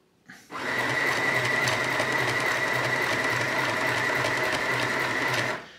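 An Easymaxx compact battery-powered sewing machine stitches test fabric in one continuous run of about five seconds, a close, steady mechanical whirring chatter with a fast regular needle rhythm and no voices.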